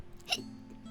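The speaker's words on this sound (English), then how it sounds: "Now is not the time for hiccups, please." A single short hiccup from a woman during a soft, whispery ASMR stream, sharp and close, then a low hum with no talking.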